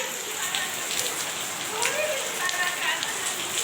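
Steady rain falls on a surface, a dense continuous hiss with scattered patters of drops. A voice sounds faintly in the background.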